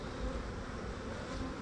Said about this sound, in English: Try to get these bees to move out the way by wiggling it a little bit.